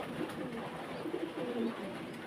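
A pair of silver pigeons at a pigeon farm coos in low, soft, repeated phrases close by, set against a steady background hiss.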